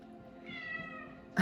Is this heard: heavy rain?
no